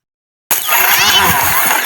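A motorbike engine starts abruptly after a moment of silence and settles into a close, loud, rough running note, with voices faintly under the noise.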